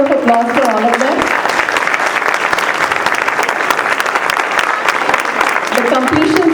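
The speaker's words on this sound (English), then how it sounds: "big round of applause for all of them." Sustained, loud applause from an audience at a school annual prize distribution, cheering the children; dense clapping fills the whole stretch, with a voice speaking over it at the start and again near the end.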